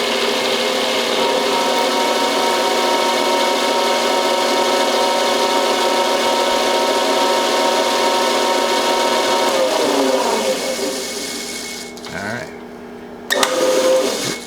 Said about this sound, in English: we're going to try to power tap this.